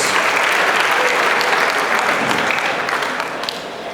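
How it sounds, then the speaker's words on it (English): Steady, loud audience applause fills a debate competition hall as a student speaker is welcomed onto the stage, the clapping dense and continuous before easing slightly near the end. "Please, a big round of applause for her to come on stage."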